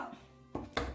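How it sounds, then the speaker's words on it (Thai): A knife chops raw pork on a cutting board, with two distinct, sharp thuds close together and no talking. "เราก็จะมาหั่นหมูกันนะคะ"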